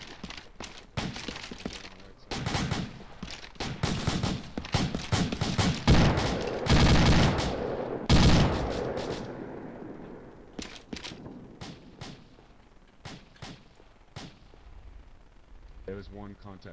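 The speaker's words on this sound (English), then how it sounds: "Guess we can just follow the gunfire." Rapid bursts of video game gunfire crack through the clip, dense volleys and single shots at varying distance, with a steady murmur of background noise between them.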